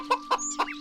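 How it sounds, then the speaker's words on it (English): A close chicken family clucks in a few short, quick bursts, with small gaps between each cluck. "Finally, he came across a chicken family."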